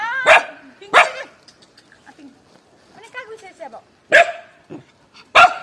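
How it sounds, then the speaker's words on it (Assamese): A dog at a house barks in sharp, loud single barks, two early and two late, with quieter sounds between them. "কুকুৰটোক অকণ শান্তি কৰিবা"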